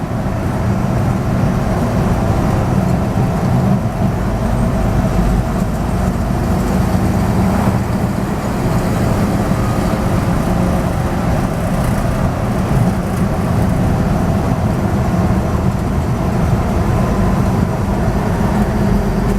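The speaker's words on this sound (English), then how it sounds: "Love driving these old farm roads." A Napco truck rolls along old farm roads, its engine and tire rumble forming a steady, loud, continuous drone with no breaks and no voices.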